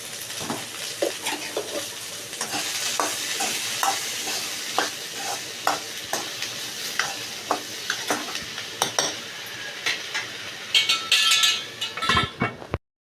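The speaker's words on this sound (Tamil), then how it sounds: "நல்லா கிளறி விட்டுட்டு உப்பு சேர்த்து கிளறிட்டு மூடி வச்சிடலாம்." Brinjal (eggplant) frying in a pan for a stir-fried poriyal: a loud, steady sizzle under regular, rhythmic spoon-scraping strokes, with a flurry of clinks near the end and no talking.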